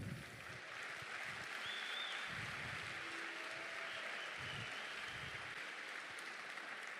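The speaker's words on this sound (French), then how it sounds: "j'aimerais bien qu'on lui réserve un tonnerre d'applaudissements" Faint, steady applause from a crowd honoring the organizer at a fight-night event, a continuous wash of distant clapping with no voices on top.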